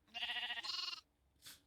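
Sheep bleating in the Minecraft video game, two quick wavering bleats back to back followed by a short soft rustle, fairly quiet and with no talk over it.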